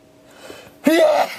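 A single loud sneeze bursts out near the microphone after a quiet stretch of faint breathing, a short sharp onset followed by a sustained voiced tail.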